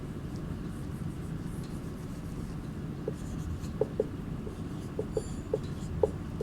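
Pen writing an answer by hand on paper during a Sanskrit lesson, faint scratchy strokes and light taps over a steady low background hum, with no talking.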